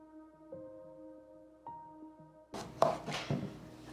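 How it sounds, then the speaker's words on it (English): After a quiet stretch with a faint tonal hum, a knife makes a few sharp cuts against a cutting board as the edges of an Asian eggplant are trimmed and the eggplant is halved. "Just cut off the edges, and then we'll slice them in half."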